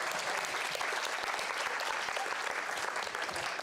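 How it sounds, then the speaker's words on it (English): A workshop audience claps together in a dense, even burst of applause that holds steady at close range for the whole few seconds. "let us together give a big round of applause to Adam and Adina"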